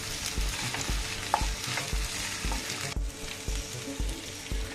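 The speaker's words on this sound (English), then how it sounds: "So we stir it a bit as soon as opening the pan" A spoon stirs Spanish omelette ingredients in a hot pan, with steady sizzling and frying and repeated soft scraping strokes, close and even, with a brief dip partway through.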